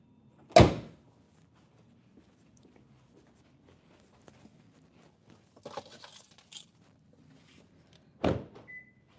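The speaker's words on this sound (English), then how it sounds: "I'll close the hood too." The hood of a 2025 Kia Niro Hybrid slams shut with a sharp, close thud. A few faint rustles follow in near-silence, then a second firm bang lands near the end.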